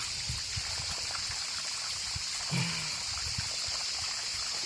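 Water trickles steadily from a pipe, a continuous hissing flow throughout with a brief low thump partway through, no voices.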